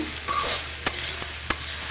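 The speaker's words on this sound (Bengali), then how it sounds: "স্বাদ মতো লবণটা দিয়ে একদম নেড়ে চেড়ে খুব সুন্দর করে আমি মিশিয়ে ভাজা ভাজা করবো এটাকে" Leftover rice being stirred and fried in a pan, salted, with a steady sizzle under three sharp spoon scrapes against the metal, spaced roughly half a second apart, with no talking.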